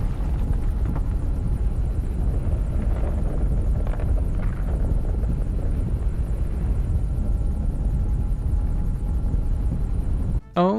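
A helicopter's loud, steady rotor drone fills a Japanese kaiju video game scene, a dense continuous roar that holds throughout before a brief cut and a warbling tone at the very end.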